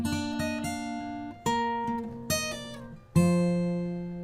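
A fingerpicked guitar phrase from the Game of Thrones theme, with bright plucked notes in an uneven rhythm, some quick and some held, each ringing into the next. No voices.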